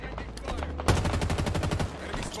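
Rapid pistol gunfire in Halo Infinite, a regular burst of sharp shots starting about a third of the way in, loud and close over game noise, with a voice briefly talking.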